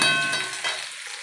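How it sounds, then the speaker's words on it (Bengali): A short burst of vegetables stirred in a hot cooking pan, a close hiss and clatter that fades quickly into a softer sizzle. "এই যে তরকারিগুলো সব দিয়ে দিয়েছি, দিয়ে একটু ভালো করে নেড়ে নেবো"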